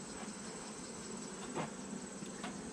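Honeybees on a hive frame hum in a soft, continuous buzz close by, with a few faint brief rustles and taps but no talking.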